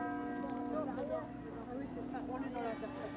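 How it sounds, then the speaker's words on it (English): Church bells ring at the half hour in Chartres, near the cathedral in the old town, as a sustained, ringing tone beneath steady crowd chatter and nearby voices. "Bells here, for some reason, ring at the half hour."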